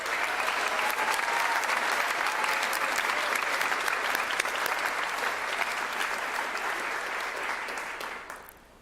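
Sustained audience applause at an awards day ceremony for an award recipient, dense and steady for most of the stretch before tapering off at the end.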